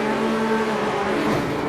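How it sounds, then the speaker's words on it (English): Porsche Carrera Cup race cars do celebration skids after race two at the Oschersleben GP circuit: a loud, continuous tire squeal blended with revving engine tones sweeping up and down. "Celebration skids on for Simmons"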